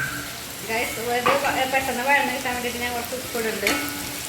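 Chilli powder and masala sautéing in a pan for a Kerala-style prawn curry give a steady close sizzle with stirring scrapes, while a voice talks over it throughout.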